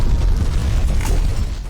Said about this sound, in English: This game, by the way, loves its explosions.